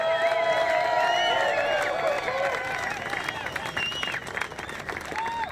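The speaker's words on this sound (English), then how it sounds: "I know this is going to be a big round of applause for our hometown hero, your runner-up for the men's division" A large crowd at a junior surfing world championship final cheers and claps for the men's division runner-up, a broad wash of applause and whistles that fades slightly while an announcer talks over it.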